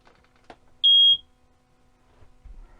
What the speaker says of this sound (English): It's a nice, loud, piercing alarm.